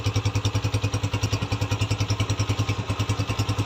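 A 2023 125cc motorcycle engine idles nearby with a steady, rapid thumping silencer exhaust beat, even and rhythmic throughout.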